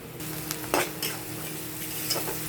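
Onions sizzle steadily in a hot pan while a spatula scrapes and stirs a few times, close and continuous.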